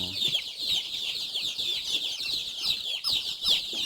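Steady clucking from several free-range Indonesian village chickens (ayam kampung), with sharp high chirps and calls overlapping continuously, fairly close and busy throughout.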